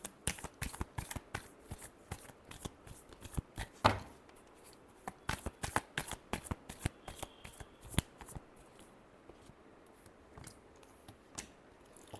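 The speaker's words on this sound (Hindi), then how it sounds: "Last shuffle." Tarot cards being shuffled by hand, a long run of quick, crisp riffling snaps and soft slaps at close range, with one louder flick near the middle and no talking.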